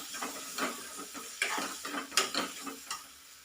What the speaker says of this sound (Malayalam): ഇനി 1/2 ടേബിൾ സ്പൂൺ മല്ലിപ്പൊടി. നല്ലോണം ഒന്ന് പച്ചമണം പോകുന്നവരെ ഒന്ന് ഇളക്കി കൊടുക്കാം.